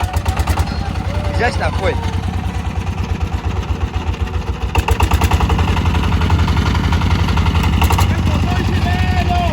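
A boat's outboard engine catches and settles into a steady, close idle, a low rumbling putter that runs throughout while several people talk loudly over it.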